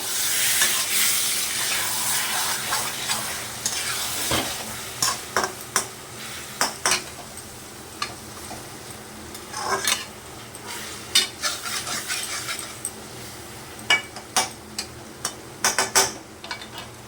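Bottle gourd curry with coriander paste is stirred in a pan for a long stretch. A soft sizzle opens it, followed by repeated sharp spatula scrapes and knocks at an irregular rhythm, close and clear, with no voices.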